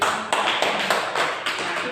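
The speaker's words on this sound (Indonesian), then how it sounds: "Tepuk tangan dulu buat kita." A group in a primary school setting claps in short rhythmic bursts, about six sharp beats spaced evenly, close and fairly loud.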